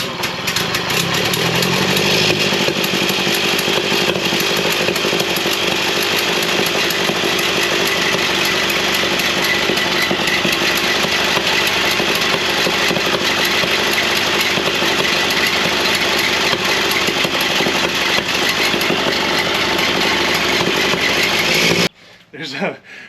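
The engine of a Ford Model A Speedster roars loudly and continuously at close range as more gas is given, a rough, busy drone with people talking under it, ending in a brief drop to quiet.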